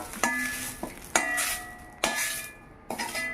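Garlic and curry leaves stirred in a little hot oil, with a few sharp metallic scrapes of a spoon against the pan over a soft, steady sizzle, close and alone with no talking.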